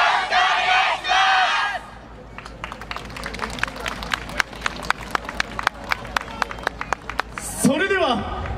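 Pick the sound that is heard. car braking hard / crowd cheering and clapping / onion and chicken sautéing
crowd cheering and clapping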